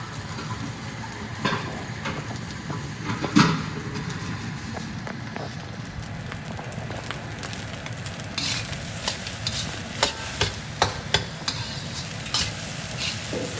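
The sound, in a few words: stirring oyster sauce into crab and Chinese sausage egg fried rice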